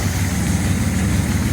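A 1948 Dodge flathead six-cylinder engine idles through a dual shotgun exhaust with baffles clamped in, giving a close, loud, steady burbling rumble with no voices.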